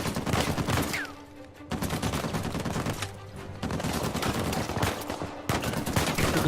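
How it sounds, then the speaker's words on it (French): Sustained bursts of rapid gunfire aimed at the player in the video game Uncharted 4, loud and dense, with brief lulls between volleys and no talk. "Il me tire dessus."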